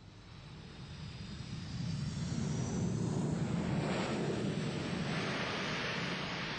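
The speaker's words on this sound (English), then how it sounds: "reversers are used. These are flaps that move to divert the gas forwards rather than backwards through the exhaust." Jet aircraft engine with thrust reversers deployed, slowing after landing: a broad roaring rush that swells and then holds steady, heard from a distance with no voices.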